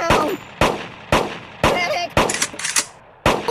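Gunfire in a video game cracks out as seven sharp, loud single shots spaced roughly half a second apart, each with a short ringing tail, with a brief metallic clang between two of them.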